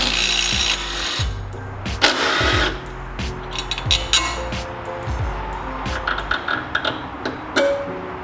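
Hand tools loosen 12mm bolts on a brake line bracket of a 350Z during a brake install, giving repeated ratcheting clicks, scrapes and metallic knocks at close range with no talk.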